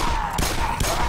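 Gunfire in the Black Mesa video game: two or three short muffled shots about half a second apart, with no talk.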